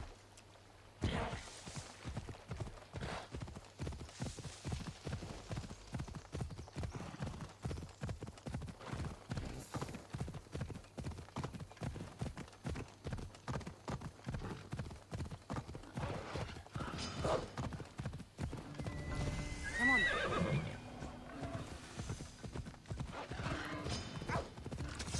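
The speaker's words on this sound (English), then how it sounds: "because she's on a horse, she's gonna be circling around" Horse hooves clip-clop steadily in the video game Assassin's Creed Odyssey, a continuous galloping rhythm, with a neigh rising near the end over the game's ambient sound.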